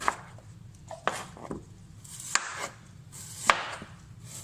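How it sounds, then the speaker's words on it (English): A knife chopping a vegetable into wedges on a cutting board, several sharp, separate cuts at an uneven pace, close and fairly quiet, with no talk. "just cut it down, make some wedges out of here"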